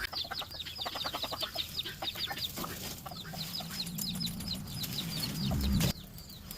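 Farm chickens cluck in rapid, repeated bursts, with several birds calling over one another close by against a low rustling background. A brief thump and scuffle near the end is followed by quieter clucking.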